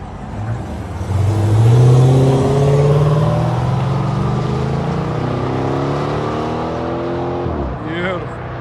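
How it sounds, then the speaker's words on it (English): A 2013 Chrysler 300S with a HEMI V8 and the rear mufflers deleted revs hard, its loud exhaust note rising and holding steady, then dropping briefly and picking up again near the end. "Chrysler 300S 2013 rear muffler delete."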